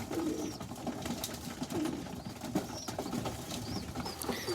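Young pigeons feed on grain alongside other birds, with repeated soft cooing and occasional brief wing flutters close by over a busy, low background.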